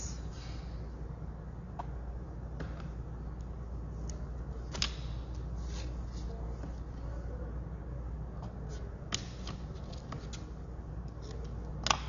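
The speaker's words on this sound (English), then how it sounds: "Okay, so let us cut some strips" Scissors snip through paper strips for a Tim Holtz pocket card book, faint scattered cuts and rustles close by at an irregular pace, with a few sharper clips standing out.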